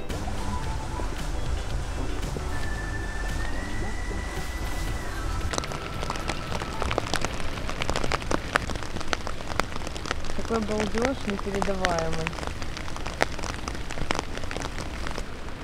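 Rain patters steadily onto an urban lake during street fishing for perch and pike, a dense continuous hiss with scattered close drops, while people talk over it.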